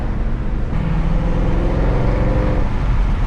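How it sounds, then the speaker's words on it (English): An AMG car engine fitted with an H-pipe exhaust drops through a 3K off-throttle downshift, a loud, steady low rumble with a brief rising tonal blip midway, no voices. "It's the best off-throttle downshift you can do in an AMG."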